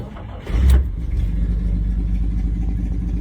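A 1950s classic car engine cranks and catches, a short sharp roar as it starts, then settles into a steady, loud, low idle rumble close by.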